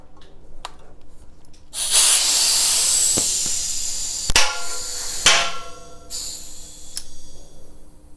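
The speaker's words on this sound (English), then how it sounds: "it's definitely leaking out the sidewalls and top here too" Air and sealant hissing out of the sidewalls of a Vittoria Corsa Speed Graphene 2.0 TLR tubeless bike tire, loud spraying bursts broken by sharp knocks and clicks.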